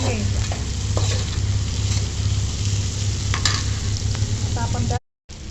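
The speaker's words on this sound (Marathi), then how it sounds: "हे पण छान असं परतवून घ्यायचं।" Peas, carrots, tomato and capsicum sauté in a pan for matar pulao, giving a steady, close sizzle with scraping stirs throughout and a brief dropout near the end.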